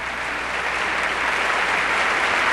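Sustained applause filling the chamber of the U.S. Congress during a presidential address, a broad, even wash of many hands clapping at once, steady and loud with no speech over it.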